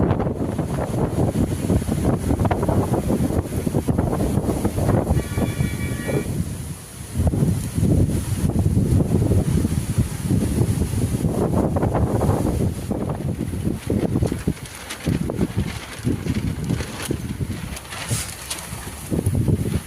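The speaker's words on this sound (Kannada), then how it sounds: "ಗಾಳಿನ ಭಾಳ ಐತಿ" Strong gusts buffet the microphone in loud, rumbling surges that rise and fall, easing briefly before roaring back.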